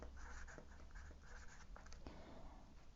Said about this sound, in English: I'll just write a title